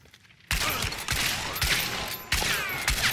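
Shotgun gunfire in the video game Hunt: Showdown, with three loud, sharp blasts about a second apart, each followed by a ringing tail, after a quiet start.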